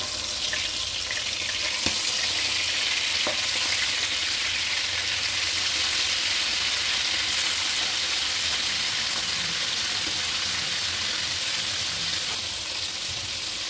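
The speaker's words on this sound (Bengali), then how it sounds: "তেলটা ভালোভাবে গরম হয়ে আসলে মাছগুলো দিয়ে ভেজে নেব।" Fish frying in hot oil in a wok, with a dense, continuous hiss and crackle of sizzling oil running unbroken at steady loudness, close up, with no talking.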